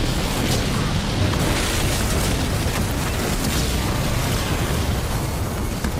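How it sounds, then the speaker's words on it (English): Artillery explosions from a Halo Wars 2 cutscene form a continuous loud barrage, a dense, roaring wall of blasts and rumble with no pause. "Alice under artillery assault, over."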